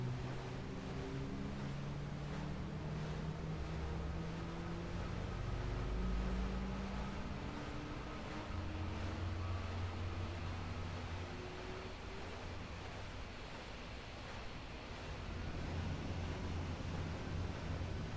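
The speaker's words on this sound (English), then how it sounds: "Now that both engines are running," Two high-thrust jet engines idle on an aircraft carrier deck in Flight Simulator X, giving a steady, continuous roar with faint sustained tones and gentle swells, without voices.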